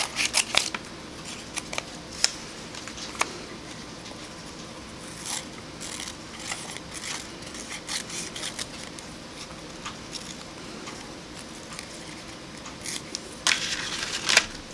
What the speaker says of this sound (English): let's cut 3 Musketeers off of this old piece of paper